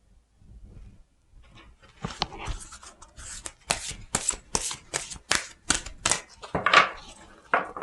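Tarot cards being shuffled and laid out on a table during a weekly fortune reading: a quick series of crisp, close snapping and slapping card sounds in an uneven rhythm, with no talking.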